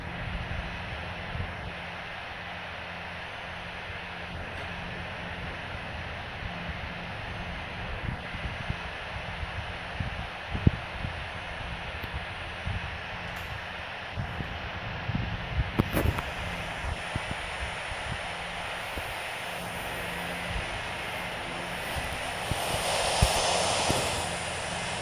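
A Boeing 737-800 taxis in the Infinite Flight flight simulator game, with a continuous, even jet engine hum and rumble throughout, steady and moderately loud, with a few faint clicks and bumps scattered over it.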